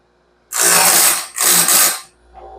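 A grinder sharpens the teeth of a stellite insert bandsaw blade at a 7 degree angle, grinding the gullets, heard as two close, loud bursts of hissing abrasive grinding with a short gap between them.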